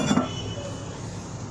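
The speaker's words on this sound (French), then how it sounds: "Nous repositionnons notre couvercle de réservoir." A toilet tank lid is set back onto its tank in a plumbing installation, making a short hard clink at the start, then near silence.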